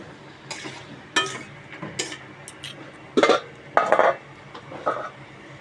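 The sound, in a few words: sautéing meat in its fat in a pot, stirring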